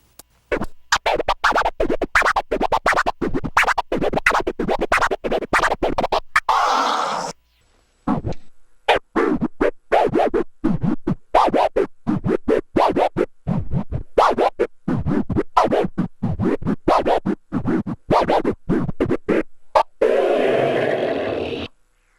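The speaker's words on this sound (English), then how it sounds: "I believe you're doing a flare with the crossfader." Rapid turntable scratching using crossfader flares, with choppy, stuttering cuts that chop the sound into quick bursts, loud and close, with a brief pause midway.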